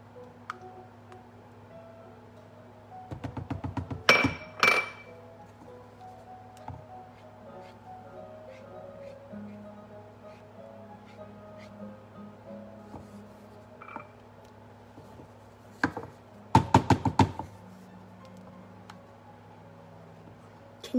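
A spoon stirs sour cream into a mac and cheese sauce in a pot off the heat, making two short bursts of rapid clinks and scrapes in an otherwise quiet kitchen.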